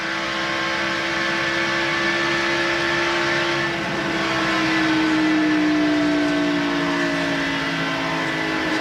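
NASCAR stock car engines drone at speed at Michigan International Speedway during the 1989 Miller High Life 400, a loud, sustained high-revving roar whose pitch slides downward as a car passes, with no talking.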